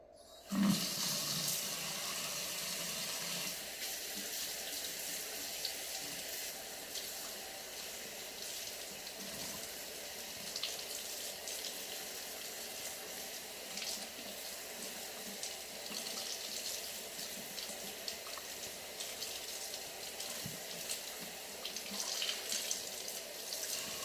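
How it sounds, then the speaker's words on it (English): Water runs steadily from a bathroom tap for the whole stretch while hair product is rinsed out, a constant close hiss with small splashing fluctuations and no talk. "I'm gonna rinse this out."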